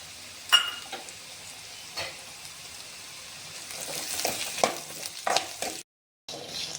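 Garlic frying with browned onions in a pan, a soft steady sizzle broken by a few scraping stirs, close by, with a brief dropout near the end.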